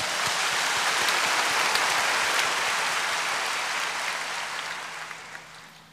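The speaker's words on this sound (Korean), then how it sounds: "아멘 하시면 한 박수를 쳐주시기 바랍니다." A church congregation bursts into dense, hissing applause that holds steady for several seconds before slowly tapering off, a full rain-like wash of many hands clapping together.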